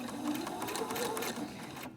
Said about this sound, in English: And then what you're going to do is just put it in your sewing machine.